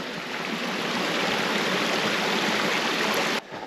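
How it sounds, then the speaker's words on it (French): Small forest stream flowing near a peat bog, a steady broadband rush of running water close by that holds constant before cutting off sharply near the end. "Regardez ce joli ruisseau."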